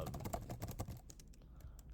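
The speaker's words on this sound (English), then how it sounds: "And then if I keep typing," Rapid, dense keystrokes on a computer keyboard while formatting a document, close and fairly quiet, a steady patter of clicks that thins out toward the end.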